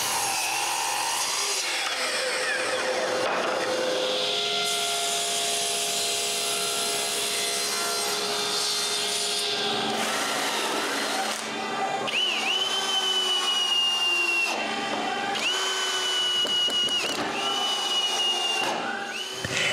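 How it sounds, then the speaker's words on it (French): Wood router gliding along a guide across a live-edge slab for a fireplace mantel, a whining, rasping cut with pitch shifts and several short pauses and restarts, close and fairly loud. "ma toupie va glisser juste comme ça"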